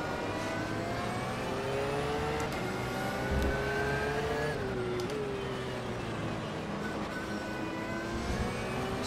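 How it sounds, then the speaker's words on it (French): An Audi race car spinning out during a motor race, with a sustained high engine whine rising and falling in pitch over a loud, steady roar of racing cars, no talk. "l'Audi qui part en tête à queue"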